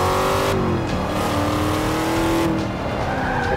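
Loud, sustained roar of a Chevrolet Camaro engine racing in Forza Motorsport 5, revving and shifting pitch with tyre skids and squeals, continuous throughout with no talking.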